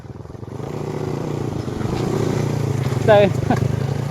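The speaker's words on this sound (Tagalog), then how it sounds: "Nagilamos ng putik yung motor ni Probos Noy oh" A motorcycle engine hums steadily while riding along a muddy, wet track, with a brief louder burst near the end and people talking over it.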